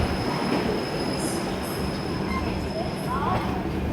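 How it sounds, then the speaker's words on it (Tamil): Uday Express train pulling out of Coimbatore heard from on board: a loud, continuous rumble of wheels and carriages with occasional high metallic squeals and faint clicking over the rails. "நம்ம ட்ரெயின் கோயம்புத்தூர்லேருந்து கிளம்பியாச்சு"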